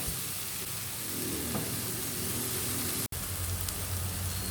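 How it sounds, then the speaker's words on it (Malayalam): Tomatoes sautéing in a pan with ground garam masala for prawn biryani, giving a steady, close sizzle and frying hiss throughout with one brief dropout near the end. "ഇനിയിപ്പോൾ ഈ തക്കാളി ഒന്ന് നന്നായിട്ട് വഴന്ന് വരട്ടെ"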